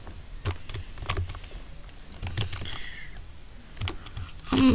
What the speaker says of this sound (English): sorry for the keyboard crashing a lot, like you can hear the little clicks and stuff in the background